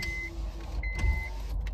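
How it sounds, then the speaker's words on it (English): A car's electric power window hums as it rolls down inside a parked car at a mall, a steady whine running under a low engine rumble and cabin noise for nearly two seconds. "I'm gonna roll this window down some because it's hot in here."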